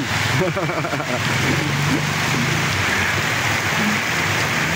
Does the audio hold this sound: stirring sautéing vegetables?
no